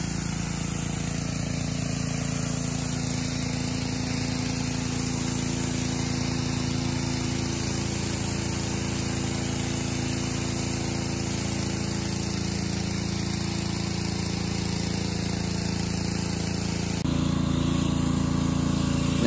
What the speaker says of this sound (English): using the 40 degree fan with the pressure washer to clean that dirt off that the surface cleaner loosened up